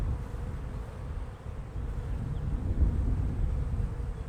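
Honey bees buzz steadily around an open spring hive during a frame inspection, a dense, continuous drone that stays close and fairly even throughout with no talking.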